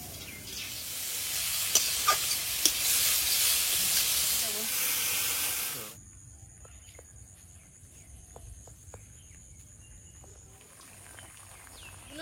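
Greens hit hot oil in a pan with a loud, steady sizzling hiss for several seconds, then the sizzle cuts out abruptly, leaving quieter pan noise with faint talk.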